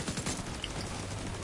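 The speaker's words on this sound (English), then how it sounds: "look at all the like explosions coming up with our turrets and that." Dense rapid gunfire and explosions from video game turrets and seeker mines, a continuous loud barrage of crackling bursts with no pauses.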